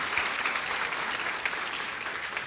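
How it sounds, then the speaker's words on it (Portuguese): A seated audience at a lecture event gives steady, sustained applause, a dense patter of many hands at moderate distance, with no voices over it. "Mais uma salva de palmas, senhoras e senhores."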